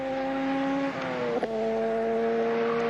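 Allan Moffat's race car at Bathurst in 1981, heading down Conrod Straight: a loud, sustained high-revving engine drone with a brief gear-change dip, then pulling hard again.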